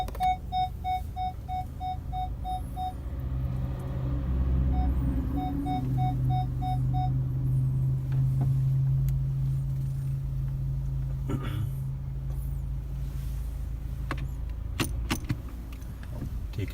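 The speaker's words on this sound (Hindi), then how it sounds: "अभी मैं इसको रिवर्स करता हूँ क्योंकि मैं पार्किंग से निकाल रहा था गाड़ी अभी।" A Honda car reversing out of a parking spot chimes with a steady beeping reverse alert over a low engine hum, then the beeps stop while the idle continues with faint cabin clicks.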